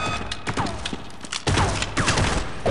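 Gunfire in Half-Life 1, a quick series of loud, punchy shots with some irregular spacing and mechanical game sounds mixed between them, close and prominent.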